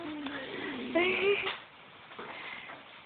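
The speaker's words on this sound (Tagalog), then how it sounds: "May pumapasok pong pusa." A cat meows a few times close by, short rising cries, with people talking around it.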